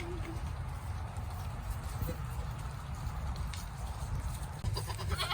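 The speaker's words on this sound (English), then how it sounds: "She's gonna let those goats out." Goats bleat now and then in a pasture over a steady low rumble of outdoor noise, with a few hoof-like clops and some distant activity.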